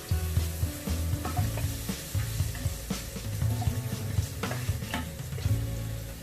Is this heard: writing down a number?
no